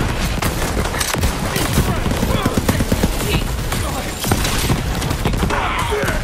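Rapid automatic gunfire from a shootout with guards in Borderlands 3, dense bursts of overlapping shots with crashing impacts running throughout, loud and close, with talk mixed in underneath.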